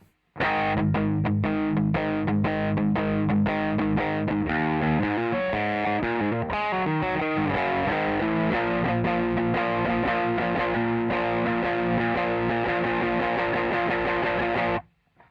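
Heavily distorted electric guitar plays the pre-chorus riff, chugging power chords and ringing notes, loud and unbroken for the whole stretch, with no talking.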